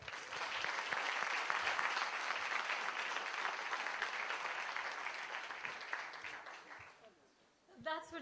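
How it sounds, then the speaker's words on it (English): A crowd at an evening MoU signing ceremony breaks into sustained applause, a dense clapping wash that stays strong for several seconds, slowly fades out near the end, and then gives way to a voice. "So, 2 thumbs up and a round of applause for everybody here tonight."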